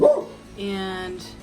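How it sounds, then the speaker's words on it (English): A house dog barks indoors in a sunroom, one sharp close bark followed by a drawn-out whining yelp, with a voice briefly starting to speak. "Sorry about my dog, guys."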